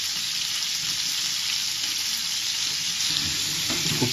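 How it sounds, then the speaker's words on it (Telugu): Salted dry fish frying in oil in a pan, a steady, close, bubbling sizzle with a few brief clinks and stirs. "ఈ ఉప్పు చేపని బాగా డీప్ ఫ్రై కాకుండా మామూలుగా ఫ్రై అయ్యేలా చూసుకోవాలి"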